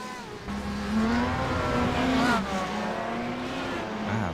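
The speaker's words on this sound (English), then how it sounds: "Brett Thurman taking the Speedworks car back out" A Speedworks race car pulling out of the pit lane back onto the Silverstone circuit during a four-hour endurance race, its engine revving up through the gears, loud and fairly close, with distant cars behind.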